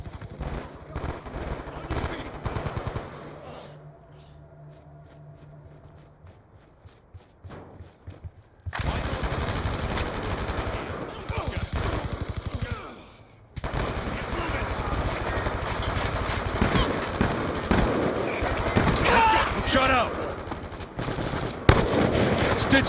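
Dense Call of Duty: Black Ops 2 multiplayer gunfire on the Nuketown map, rapid automatic bursts that fall quiet for a few seconds and then return in loud, sustained volleys, with a voice briefly heard.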